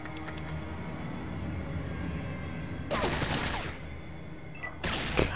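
Bursts of automatic gunfire from the video game Fallout 2 rattle out in two loud volleys, the first about a second long and the second shorter, over a low steady game background.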